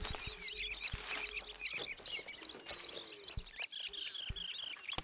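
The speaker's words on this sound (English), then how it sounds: "Certainly hear a lot of birds." Many birds chirp and tweet continuously in a Pokémon video game, with a dense layer of high, overlapping calls throughout.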